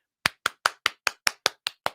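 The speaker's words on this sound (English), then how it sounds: "Let's clap for them." Single person clapping at a press conference: nine sharp, evenly spaced claps, close and crisp, with no other sound between them.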